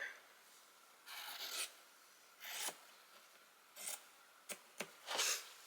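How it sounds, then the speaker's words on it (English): Scissors snipping through fabric while cutting pieces for a beginner grocery tote, heard as several short, soft cutting bursts spaced apart with quick close snips near the end, quiet and without talk. "I'm going to grab scissors and just cut right at 14 with that"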